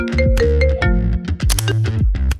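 A phone ringtone plays loudly and close, a busy electronic melody of rapid tones and beats filling the whole moment with no one speaking over it.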